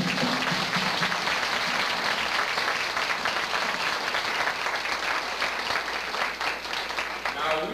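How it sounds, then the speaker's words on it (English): An audience at a community fashion show applauds the models in a long, steady round of clapping, fairly distant and moderately loud, with faint voices mixed in. "I think they deserve a round of applause."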